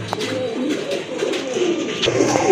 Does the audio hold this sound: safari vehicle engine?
no